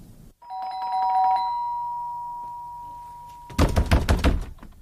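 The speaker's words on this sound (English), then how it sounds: "I want you to ring the front doorbell." A front doorbell sounds a sustained two-tone chime that rings out for a few seconds, followed by loud knocking or banging at the door.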